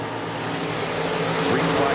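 A dense roar of several stock car engines at Boone Speedway, Iowa, rumbles steadily, rising slightly toward the end as the pack accelerates at the green flag.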